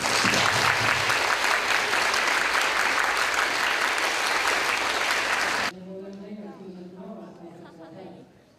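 Loud sustained applause from an audience at a university junior campus event in Kyoto, cutting off abruptly, followed by a person speaking.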